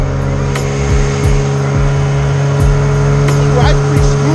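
An outboard motor running on a fishing boat out after pike, a loud steady engine drone with a repeating low throb, close by. A voice speaks over it briefly.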